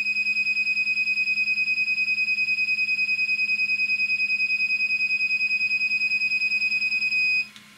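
A steady, continuous high-pitched electronic beep from a Himoto brushless RC car transmitter sounds for several seconds with a low hum underneath, then cuts off abruptly near the end.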